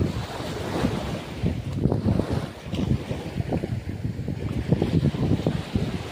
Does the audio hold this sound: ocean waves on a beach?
yes